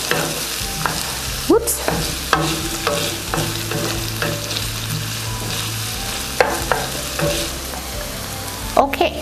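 Vegetables with cherry tomatoes sizzling loudly in a pan while being stirred, with a constant frying hiss, scattered utensil scrapes and a brief spoken exclamation.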